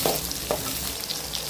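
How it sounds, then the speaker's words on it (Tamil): Onions, garlic and finely chopped ginger sautéing in a pan for spicy chicken gravy, a dense continuous close sizzle with a couple of stirring swishes. "அப்புறம் இஞ்சியை பொடியாக கட் பண்ணி அதையும் போட்டு நல்லா வணக்கி விட்டுக்கலாம்"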